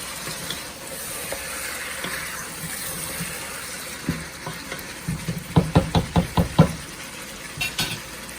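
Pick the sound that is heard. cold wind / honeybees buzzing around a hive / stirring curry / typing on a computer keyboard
stirring curry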